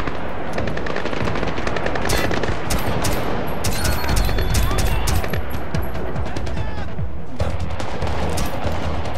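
Dense gunfire in the video game Splinter Cell: Blacklist, loud continuous machine-gun bursts and rapid shots filling the whole stretch, with game voices partly underneath.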